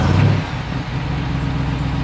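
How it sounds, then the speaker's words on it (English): A deep V8 engine idles with a steady low rumble after a brief rev at the start, close and fairly loud. "you can hear that nice sounding V8"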